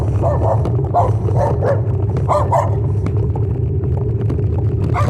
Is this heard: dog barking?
yes